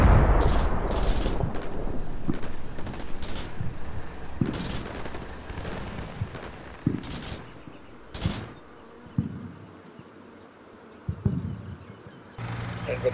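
Artillery fire mission in Combat Mission Shock Force: a series of scattered booms and sharp blasts, some near and loud, others fainter, with a buzzing drone in the background.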